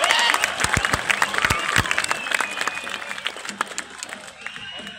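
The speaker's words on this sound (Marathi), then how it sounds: "जोरदार टाळ्या होतात" Loud applause and clapping from a political rally crowd of the Vanchit Bahujan Aghadi at Sanjay Ground in Miraj, Sangli, dense and sustained, with scattered claps and crowd noise, fading slightly toward the end.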